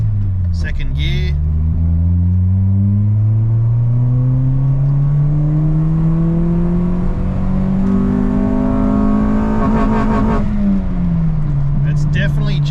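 A turbocharged Honda Integra B18C2 engine revs hard in second gear, a loud, close drone that climbs steadily in pitch toward redline before dropping back. A faint voice is present.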